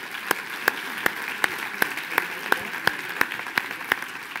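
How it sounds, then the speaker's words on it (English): A seminar audience gives a salesperson a round of applause, a crowd clapping steadily with a few sharp, regularly spaced claps standing out close by, evenly paced throughout. "Let's give him a round of applause."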